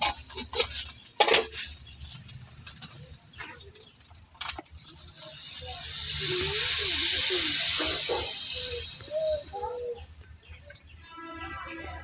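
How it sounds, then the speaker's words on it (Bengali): Water poured into a hot pan of sautéed broken rice for khuder bhaat, a building hiss and steam rush swelling in the middle and fading, with birdsong and a voice nearby. "এখন জল দিয়ে নিতেছি"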